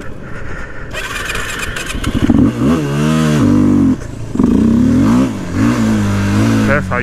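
A motorcycle engine revs hard in repeated rising and falling surges during a wheelie attempt, loud and close, with a rider's voice faintly underneath.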